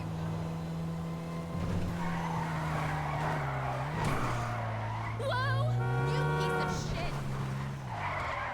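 Tires squeal as a blue car skids and slides across the road in GTA Online, with a steady engine drone and rising, wavering screeches over several seconds under continuous talk.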